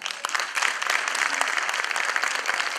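Applause from an audience at a Christmas gathering with a folk ensemble, dense steady clapping filling the room evenly throughout, with no voices standing out.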